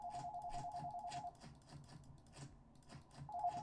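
A telephone ringing in a video game, a repeating electronic trill in bursts with a pause between them, playing over quieter clicky background game sounds.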